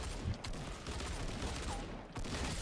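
Rapid gunfire from the Fortnite video game crackles in a dense, continuous burst, close and steady across the short stretch with little else audible.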